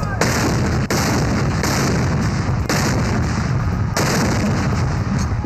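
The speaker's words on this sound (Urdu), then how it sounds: "صوبائی دارالحکومتوں میں 21 توپوں کی سلامی دی گئی۔" Ceremonial artillery booms for Pakistan's Independence Day salute, a 21-gun salute in a provincial capital: loud, evenly spaced cannon reports roughly every second or so, heard over dense, continuous crowd and outdoor background noise.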